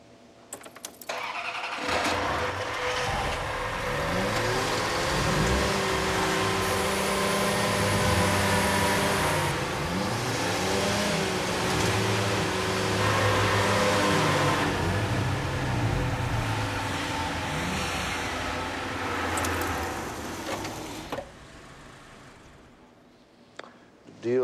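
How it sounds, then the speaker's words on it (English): Ferrari car engines start up and rev, several mid-pitched engine tones rising and falling in overlapping swells for about twenty seconds before cutting off. "everybody start your engines."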